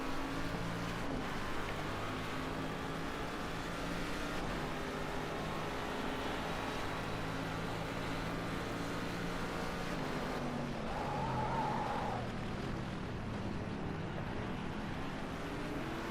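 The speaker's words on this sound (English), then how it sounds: "What the heck was that car?" A car engine drones steadily in a video game, a continuous loud hum with layered harmonic tones and a brief higher whine partway through, without talk.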